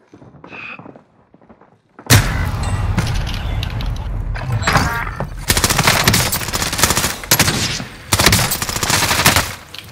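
Heavy automatic gunfire in Call of Duty: Modern Warfare erupts after a quiet opening, with dense sustained bursts and thuds rolling on loudly and up close, a faint voice only at the very start.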